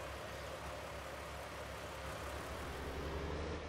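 Tractor engine in the farming video game Farming Simulator 19, a steady low drone running continuously, fairly faint and alone.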